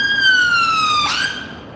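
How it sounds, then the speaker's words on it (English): A police car siren wails loudly in a steady tone as it passes close by, then cuts off abruptly partway through, leaving a low background hum. "They turned off the siren just as they went past."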